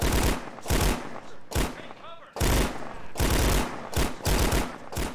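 Gunfire in the video game Karma rings out in loud repeated bursts and rapid volleys close up, with a brief voice between shots.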